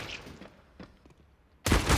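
A sudden loud burst of gunfire in Counter-Strike on the Nuke map, hitting after quiet in-game ambience and a few faint footstep-like ticks, close and sharp at the end.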